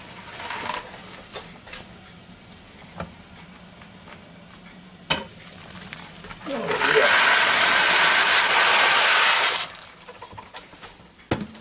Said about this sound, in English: Starting to boil pretty good, so we're fixing to put this elbows down in it here.